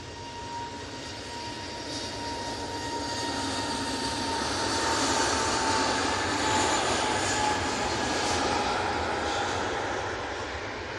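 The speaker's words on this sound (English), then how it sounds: "That A320neo is off to Hamburg." Airbus A320neo jet taking off from Manchester Airport bound for Hamburg, a steady broadband engine roar that swells toward the middle and holds, with a faint whine running through it, heard from a distance and without talk.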